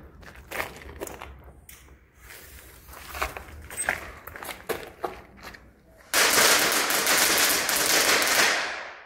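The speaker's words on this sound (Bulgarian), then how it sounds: "някакви ще мятат драконова яйца и пиратка. Ето това, флашбенка" Firecrackers and a flashbang set off inside an abandoned cigarette factory: scattered crackling pops and bangs echo for several seconds, then a sudden loud blast erupts into a sustained hissing roar lasting about three seconds.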